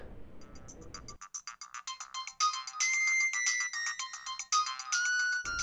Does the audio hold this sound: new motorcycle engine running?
no